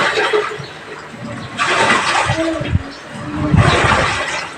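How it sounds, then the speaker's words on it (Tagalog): Panasonic top-load washing machine agitating and sloshing water during its wash cycle after a drain repair and water-level sensor replacement, a steady churning roar that swells in two loud surges. "Ngayon, hindi na siya nagtatapon ng tubig, kaya siya ay nag-wash na."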